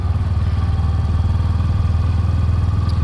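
A Hero Glamour X 2025 motorcycle engine running in gear, a steady, close, loud low thrum with a fast even pulse throughout and no voices.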